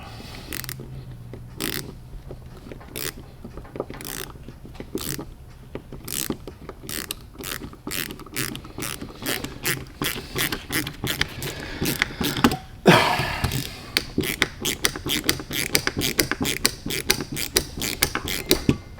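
A Saker ratchet from a 42-piece set drives a Phillips drywall screw, with a long series of crisp, regularly spaced pawl clicks close to the microphone. The clicks quicken toward the end with one brief scraping pause.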